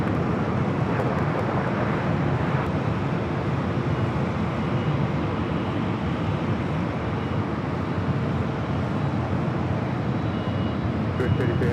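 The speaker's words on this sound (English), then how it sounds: "Japan Airlines in the A350-1000 next to depart here on the north side." A Japan Airlines Airbus A350-1000 jet departs LAX, a continuous loud broadband engine roar that holds steady throughout.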